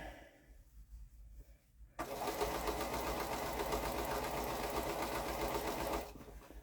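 A sewing machine stitches curved quilt seams, starting after a short quiet lead-in and running steadily and loudly for about four seconds before stopping.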